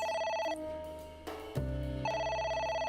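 Telephone ringing in the video game AI: The Somnium Files, a steady electronic ring tone repeating in bursts, with a low thud partway through and no talking.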